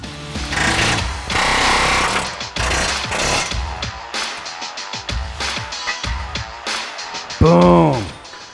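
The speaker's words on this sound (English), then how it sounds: "Now he switches to a punch tool rather than a chisel tool." An air hammer fitted with a punch tool rattles hard against a suspension part during a QA1 C10 suspension install, loud and close in rapid bursts with short pauses, ending in a brief squealing tone.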